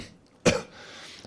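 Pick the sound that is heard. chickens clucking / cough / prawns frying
cough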